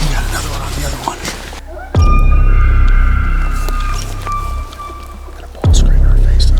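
A bull elk bugles nearby in Oregon elk country during archery season. Two loud, close, high whistling screams stand out over wind and outdoor noise, each lasting a few seconds with a short gap between them.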